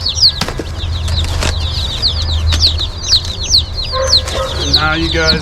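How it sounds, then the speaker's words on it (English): Baby chicks packed in a small shipping box peep constantly, a dense, close, loud chorus of high chirps over a low hum, with brief movement and handling noise near the end. "Here's the rest of the chicks."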